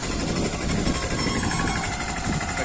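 A tractor engine ploughing a field drones steadily with a rough, rattling low rumble, close and continuous over a few seconds.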